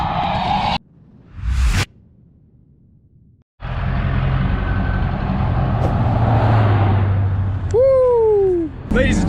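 A car at a drift event passes with a loud whoosh and a steady engine roar. Near the end a tire squeal rises and falls.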